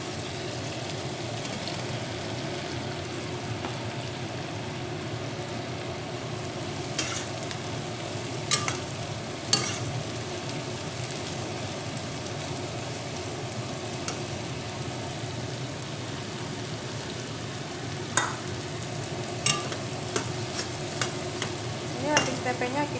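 Tempe stir-fried with long beans in a pan, a constant close sizzle with occasional scraping clicks of a spatula stirring, no talking.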